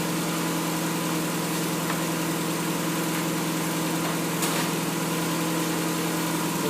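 A Mazda Miata engine idles steadily during an idle-speed adjustment, a continuous close mechanical hum and clatter with faint ticks and no talk over it.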